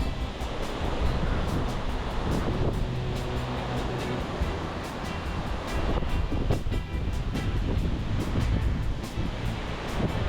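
Ocean waves and surf off Jupiter Beach, Florida, heard from a kitesurfer riding small waves, a steady loud rush of water mixed with heavy wind buffeting close to a helmet-mounted microphone.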